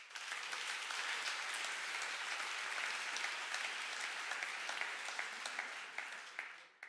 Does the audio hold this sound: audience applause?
yes